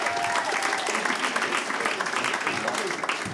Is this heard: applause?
yes